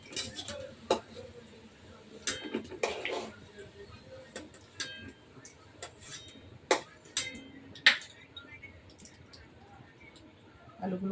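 Metal utensils scrape and clink against a pan as fried potatoes are lifted out, a scatter of sharp clatters at irregular intervals over a quiet background.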